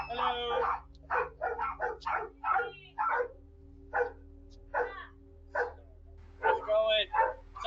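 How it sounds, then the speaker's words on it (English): Dogs barking at a house's front door, picked up by a doorbell camera in Nashua, New Hampshire, sharp yips and barks coming in repeated bursts alongside a person talking at the door. "sorry about the dogs going off."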